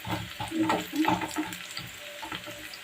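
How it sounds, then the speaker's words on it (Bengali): Sliced onions fry into crispy birista in hot oil, giving a soft, continuous sizzle broken by a few stirring scrapes, fairly faint and with no talking. "পাশে বেরেস্তাটা ভেজে নিচ্ছি"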